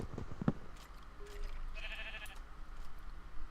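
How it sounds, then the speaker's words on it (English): A single sheep in the video game Minecraft gives one clear, mid-length bleat, close and alone over a faint background. "And there's a sheep."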